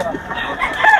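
Gamecock roosters at a cockfighting venue, one crowing faintly in a short burst amid a hubbub of background noise.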